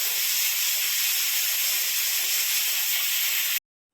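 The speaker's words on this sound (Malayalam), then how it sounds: "കുക്കറൊക്കെ മൂടി വെച്ചിട്ട് നമുക്ക് 2 വിസിലൊന്ന് വേവിച്ചെടുക്കാം" A pressure cooker on the stove lets off steam in a loud, steady, unbroken hiss that stops abruptly near the end.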